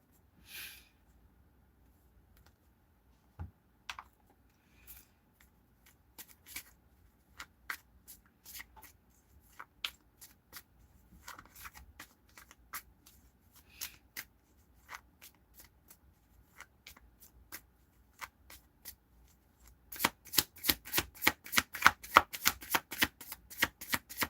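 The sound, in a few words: shuffling tarot cards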